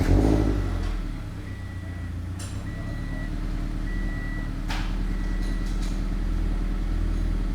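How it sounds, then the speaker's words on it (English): A Subaru BRZ fitted with a Perrin air intake tube cranks and fires, then runs with a steady deep engine rumble and a couple of brief throttle blips, heard close up and fairly loud. "Let's start her up and see how she sounds."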